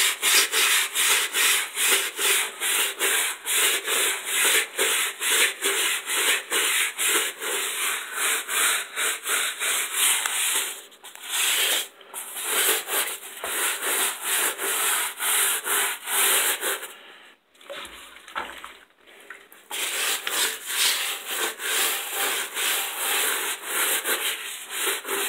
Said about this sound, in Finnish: miten pestetään matot, auton matot